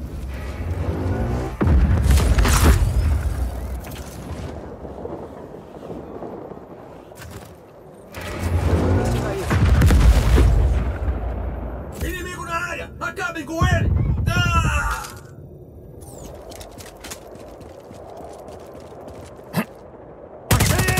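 Cannons are blown apart in Just Cause 4: heavy bursts of explosions and rapid gunfire come in loud clusters, separated by quieter stretches with wind-like noise, and a voice talks intermittently between the blasts.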